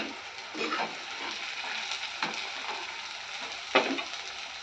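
Ivy gourd (tindora) fries in hot oil in a pan with onion paste, a steady soft sizzle with occasional sharper pops and stirring clinks.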